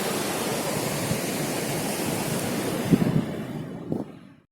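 Ocean surf rolling onto the beach at Pantai Gandoria, a continuous broad rushing wash with a couple of louder surges near the end before it fades out.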